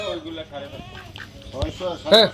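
Ducks for sale at a village market give a loud quack near the end, under busy nearby talk and crowd noise.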